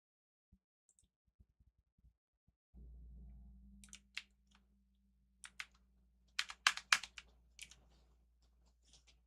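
Typing on a computer keyboard, sparse faint clicks at first, then a low hum starts and bursts of quick, close keystrokes follow in uneven clusters.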